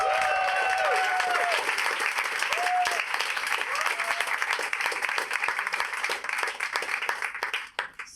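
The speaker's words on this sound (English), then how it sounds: "Give yourselves a round of applause." Comedy show audience giving itself a round of applause, lively clapping from a crowd with scattered cheers and whoops over it, continuing steadily before trailing off at the end.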